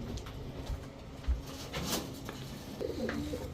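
Soft, low coos from Giribaz high-flyer pigeons come faintly from nearby, with a quiet hum of room noise underneath.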